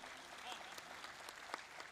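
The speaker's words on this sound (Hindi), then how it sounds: "पूरी टीम का जरा जोरदार ताली बजा के स्वागत कीजिए। भोपाल की तालियां।" An audience in Bhopal applauds at a public event, dense steady clapping heard faintly from a distance with scattered louder claps and some voices mixed in.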